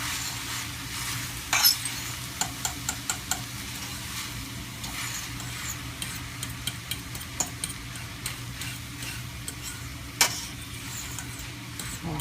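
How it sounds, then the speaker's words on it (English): Onions, garlic and sofrito fry in a pan for Puerto Rican ground beef pastelillos, with a continuous close sizzle punctuated by repeated spoon clicks and scrapes from stirring. "now you're going to stir this around and let this cook first. The onions have to cook, the garlic has to cook, and the sofrito"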